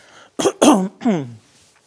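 A man giving an art lecture coughs in three sharp, close bursts, with a short throat-clearing quality, in an otherwise quiet hall.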